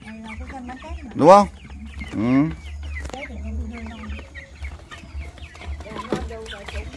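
Chickens being raised for sale at Tet cluck and squawk close by, with a couple of loud rising calls among softer clucks while people talk over them.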